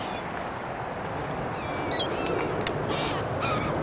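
Seagulls calling over a frozen lake in winter, birds standing on the ice; scattered high cries come and go at a distance over steady wind-like background noise.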